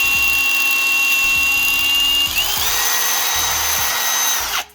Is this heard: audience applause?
no